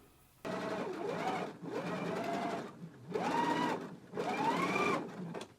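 A sewing machine understitches along the pocket of a knit dress in four short, even bursts of steady whirring, each separated by a brief pause, close by with no voices.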